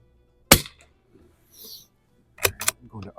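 A Winchester 52 pre-A target rifle with iron sights fires two sharp, loud shots: one alone, then two close together about two seconds later, each with a brief ringing tail, and faint low talk can be heard between them.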